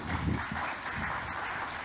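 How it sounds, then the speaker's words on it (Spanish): Audience applause at a technology congress in Latin America, a dense and steady wash of clapping from a large crowd filling the whole moment. "Demos un fuerte aplauso y la bienvenida a Daniel Madrid."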